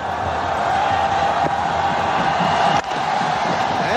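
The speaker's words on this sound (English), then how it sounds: "Listen to the crowd, they're excited." Stadium crowd at an India versus Australia cricket match roaring and cheering steadily after the final delivery, a loud continuous wash of many voices with a brief dip near the end.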